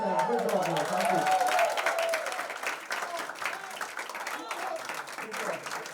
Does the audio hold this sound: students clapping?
yes